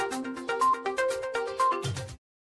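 A short bright notification bell chime, a few ringing tonal notes in quick succession ending with a soft low thump, then silence.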